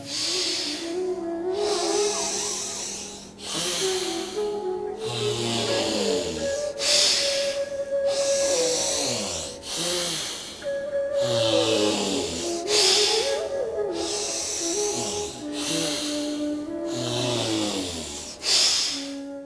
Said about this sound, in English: Close the left nostril and exhale through the right.